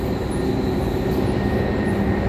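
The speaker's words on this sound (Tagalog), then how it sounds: "Sa train kami." Steady, loud rumble of a moving train heard from inside a carriage near Chatswood, a continuous low roar with faint rail clatter and no talking.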